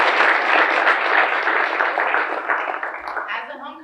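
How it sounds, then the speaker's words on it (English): Audience applause at a university regional campus homecoming crowning ceremony, a loud, full burst of clapping that holds steady and then begins to thin out toward the end. "Can we give them a huge round of applause?"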